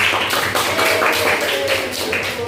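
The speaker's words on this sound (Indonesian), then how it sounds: "beri tepuk tangan yang meriah untuk kelompok semua kelompok lah ya" Classroom applause for student presentation groups, a steady dense patter of many hands clapping together at moderate distance, continuous throughout with no talk over it.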